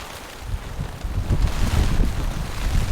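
Heavy wind buffets the microphone under a tarp on a mountain campsite during a rain storm, loud low rumbling gusts mixed with a dense hiss of rain, rising in strength over a few seconds with no voice.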